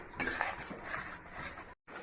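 Spice paste with tomato paste being sautéed in a pan for a Kashmiri-style potato curry, heard as faint close scraping and clinking of a utensil against the pan with a soft low sizzle, briefly cut off near the end.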